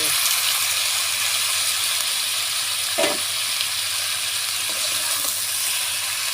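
Potato and Malabar spinach sizzle steadily while being sautéed in a pan, a continuous close frying hiss with a brief stirring clatter near the middle.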